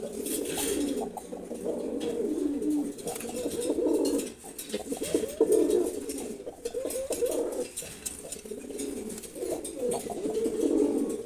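A pair of khaki pigeons coos repeatedly at close range, the low rolling calls coming in steady overlapping phrases with brief pauses and no talk.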